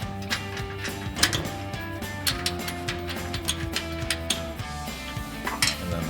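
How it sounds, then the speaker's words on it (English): Combo bolts are threaded by hand into a running board bracket under a Jeep Gladiator JT, heard as steady metallic clicking and ratcheting with small clinks, close and fairly busy throughout. "So now we can hop underneath and thread those 2 combo bolts in."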